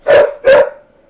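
A dog in the background gives two sharp, loud barks in quick succession, alone with no talk.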